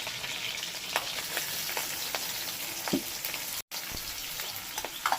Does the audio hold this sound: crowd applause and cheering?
no